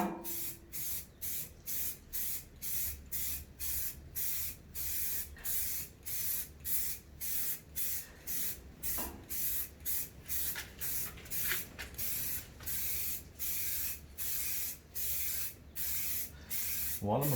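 Removable paint protection sprays onto a car bonnet in a second coat: a long, even series of short aerosol hisses, each burst followed by a brief gap, close and moderately loud.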